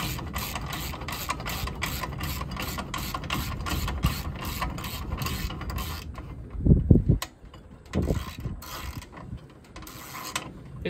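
A budget log turner being tightened down, steady rapid ratchet clicking up close that stops partway, followed by a few louder clunks and creaks of the mechanism.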